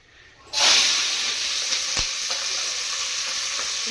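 Peas hit a hot frying pan with a sudden loud burst of sizzling, which then settles into a steady, close hiss of frying with a few faint clicks.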